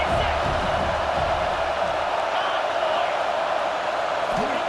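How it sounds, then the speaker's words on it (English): Stadium crowd noise from the EA Sports College Football 26 video game, a steady, dense roar of many voices at a moderate level, with a faint bounce or thud at the start and end. "This crowd bringing the energy and noise early."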